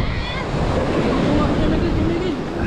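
Sea waves surge in a continuous roar under heavy wind buffeting the microphone, rough open water churning white along a coast as rain comes, with no clear break in the wash of sound.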